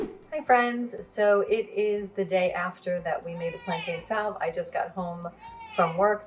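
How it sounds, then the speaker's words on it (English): A house cat meows repeatedly for attention in the background while a person talks continuously in the foreground, the cries partly masked by the voice. "That is my cat trying to get my attention"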